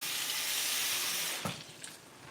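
Tap water runs into a kitchen sink in a steady hiss for about a second and a half, then cuts off, followed by a few faint clatters nearby.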